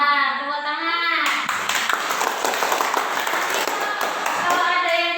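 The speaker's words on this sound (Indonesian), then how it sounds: "Benar, tepuk tangan" Classmates break into brisk, dense hand clapping in a school classroom after a tonal voice fades out; the clapping is loud and close, lasting several seconds before easing off.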